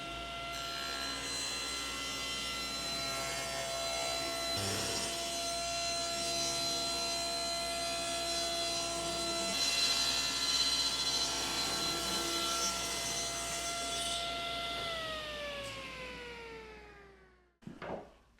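A power saw rips zebra wood into thin molding strips, a loud continuous whining cut with strong harmonic tones that falls in pitch as the blade spins down, followed by a brief clatter at the end.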